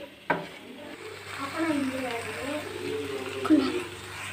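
Tomatoes for paneer butter masala sizzle softly in a pan as they are sautéed, with a sharp clink of a spoon or lid near the start and again near the end while a person speaks over the cooking.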